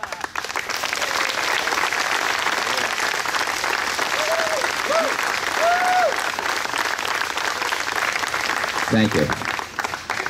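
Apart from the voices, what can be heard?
applause for new elected officials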